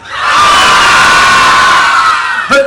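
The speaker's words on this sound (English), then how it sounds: "Can you still scream?" A big audience at a live science show at Butlins Minehead, many of them children, screams together in a loud, shrill, sustained roar that rises fast, holds steady and ends with a short extra burst.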